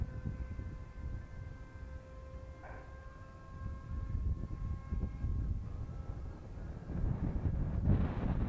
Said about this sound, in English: Whoa, the wind is quite strong.